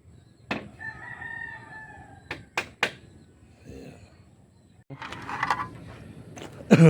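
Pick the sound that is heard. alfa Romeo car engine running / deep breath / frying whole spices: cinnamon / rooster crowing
rooster crowing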